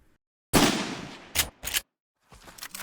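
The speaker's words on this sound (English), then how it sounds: "I started by finding normal gun sounds in my library of sound effects, then began layering sounds on top of the original layer." Layered gunshot sound effects built from stock gun recordings, EQ'd and bass-enhanced for a full low end: one long booming blast with a decaying tail, two sharp follow-up shots, then quieter crackling bursts, loud and close with no talk.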